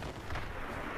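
Autocannon fire in the vehicle-combat game Crossout, heard as a dense, continuous barrage of loud, overlapping booming shots with no clear gaps between them.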